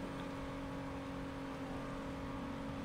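A car engine in the Saints Row street-racing game drones steadily and evenly throughout at a moderate level, with no talking.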